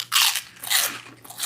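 Close, crisp crunching of a cinnamon twist being bitten and chewed, with three or four loud crackling bursts spaced about half a second apart and no talking.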